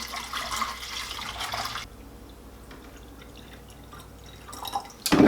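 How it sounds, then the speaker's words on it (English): Distilled water pours into the reservoir of an H2Pro 300 machine, a steady close splashing and trickling for about two seconds, then softer drips, ending in a louder clatter. "go ahead and just fill it with pure distilled water"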